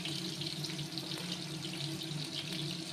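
Onions sizzling in hot oil in a home kitchen, a steady dense crackling hiss that fills the whole stretch at a constant level, close and fairly loud, with no talking over it.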